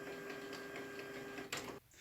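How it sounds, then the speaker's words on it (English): A printer runs with a steady mechanical whir and a constant hum, then cuts off abruptly near the end. "I'll just wait for my printer then, shall I?"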